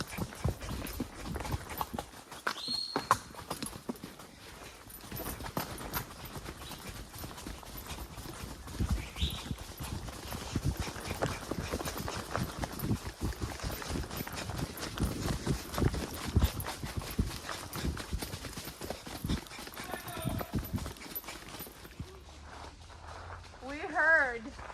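Horses carry riders on a horseback ride out of Tayrona, hooves clip-clopping in an uneven steady walking rhythm close by, with occasional voices and rustling over the hoofbeats.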